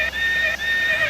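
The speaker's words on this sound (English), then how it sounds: "I forgot to play my horse soundboard" A horse whinny played from a soundboard, a bright high neigh repeated in quick, loud, close bursts that cut off and restart, with faint hoof clip-clop and no talking.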